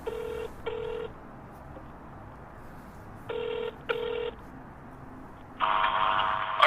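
Two pairs of short electronic dial tones separated by pauses, followed by a steady buzzing ring tone near the end; no voices.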